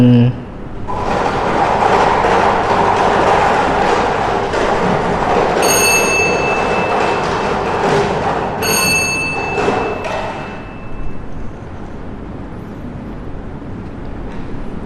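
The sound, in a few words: Lao lottery number drawing device spinning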